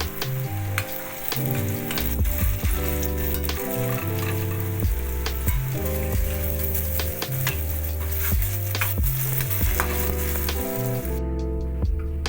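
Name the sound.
fig fritters frying in oil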